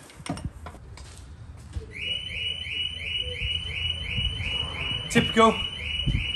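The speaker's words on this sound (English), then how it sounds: "The alarm's just gonna give us a rave." An alarm sounds continuously in a workshop where car bolts are being undone, a steady piercing electronic tone with a pulsing upper layer running loud over clanking and a voice.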